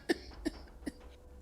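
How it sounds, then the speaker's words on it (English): A character in the Starfield video game, in a blue suit, gives three short, soft coughs at roughly even intervals, followed by a faint throat sound. "the coughing in the blue suit's a bit concerning."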